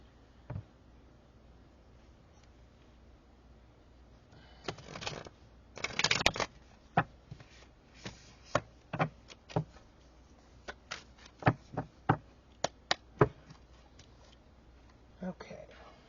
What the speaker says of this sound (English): Let me give it a good shuffle again.